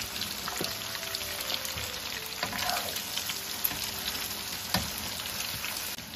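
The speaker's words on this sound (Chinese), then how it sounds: "下入锅中之后不要翻动它，要给它炸至定型" Eggplant pieces deep-frying in hot oil in a wok, a steady close crackling sizzle with scattered pops and spits running throughout.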